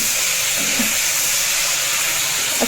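Fish fries in a pan at home, a constant loud hiss and sizzle holding steady throughout with no talk.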